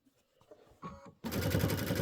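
A sewing machine stitches a binding strip onto a Kimberbell Pumpkins and Potions quilted project. Soft handling noises come first, then a loud, steady, rapid mechanical whirr starts abruptly and runs unbroken to the end.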